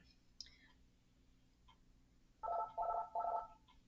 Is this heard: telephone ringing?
yes